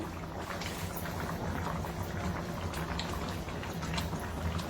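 Pangas fish curry broth bubbling at a rolling boil in a pot, a steady dense patter of popping bubbles and simmering liquid throughout, close and even, with no talking.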